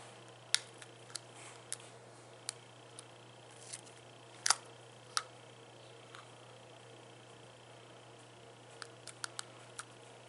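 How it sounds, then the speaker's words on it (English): Scissors snip the end off a handmade Halloween wand craft, giving a series of sharp, isolated clicks and snips scattered across a quiet room, with one louder cut in the middle and no speech. "I'm just gonna snip off the end"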